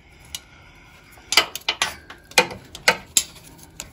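A wrench undoing a bellhousing bolt on a Citroen C3 during clutch replacement: a quick series of sharp ratchet clicks in irregular bursts, close and alone against a quiet workshop background.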